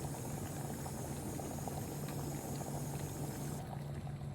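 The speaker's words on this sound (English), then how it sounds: "my water has boiled" Water boils steadily in a pot on a stove for a tea ritual, a dense continuous bubbling roar, close and loud with no talking.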